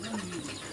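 A purebred pigeon gives a brief, soft low coo, heard close in a quiet indoor setting with a faint hiss behind it.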